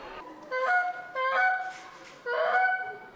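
Geese calling during the Cree spring Goose Break in James Bay, three loud honking calls in succession, close and clear with no talk.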